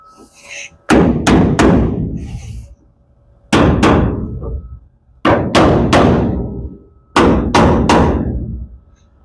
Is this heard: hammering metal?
yes